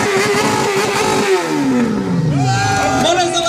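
A racing motorcycle engine revs at a live show, a loud roar rising and falling in pitch, backed by crowd noise and a voice in the background.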